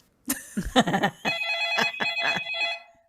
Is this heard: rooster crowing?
no